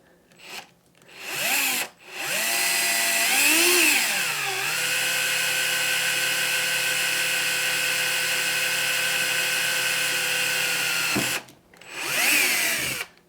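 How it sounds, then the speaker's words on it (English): A power drill with a 3/32 inch bit whines steadily for about ten seconds, rising and falling in pitch at the start, with brief pauses and a short burst at the end. "So I got a 3/32 inch drill bit, and that's what we're using here to drill this."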